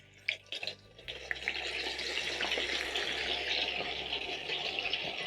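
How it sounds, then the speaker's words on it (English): Potatoes sizzle in hot cooking oil as they are lowered in from a skimmer, a steady crackling hiss with a few sharp bubbling pops at the start, close and moderately loud, with no talking. "place in my skimmer and place into the hot cooking oil carefully"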